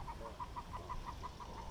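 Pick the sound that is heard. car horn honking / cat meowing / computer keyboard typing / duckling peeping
duckling peeping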